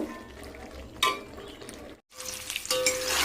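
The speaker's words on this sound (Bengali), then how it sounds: "ডিমটা একটু ভেজে নিচ্ছি" An egg frying in a pan with spice paste for a Bengali egg curry, giving a steady close sizzle with a brief louder burst of spattering partway through, then a short gap before the frying hiss returns.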